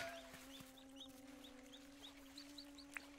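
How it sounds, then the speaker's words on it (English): Video-game chicken in Dinkum clucking in a quick series of soft, evenly spaced clucks over a steady humming tone, close but gentle, with a short click near the end. "So that's my first chicken"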